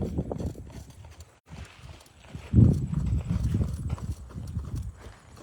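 Hooves of a ridden horse clip-clop in a steady walking rhythm, fairly close, with a louder burst of stamping partway through and low rumbling underneath.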